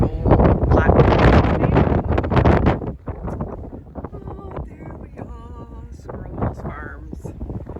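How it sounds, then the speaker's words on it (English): Gusty wind buffets the microphone outdoors at a memorial in Cochrane, Ontario, loud and roaring at first, then easing into softer rumbles with faint voices underneath. "I'm sorry it's windy today."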